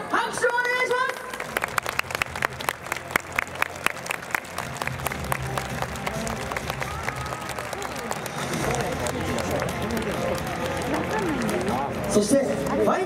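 Large-crowd applause at the Domatsuri 2022 festival awards announcement, a long stretch of brisk, dense clapping with crowd noise and voices mixed in, swelling again near the end.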